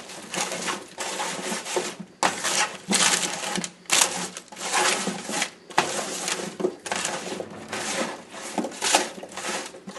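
Vegetables are tossed with black pepper and seasoning in a bowl, producing bursts of rattling, clattering shuffles that come in uneven waves with brief pauses between them.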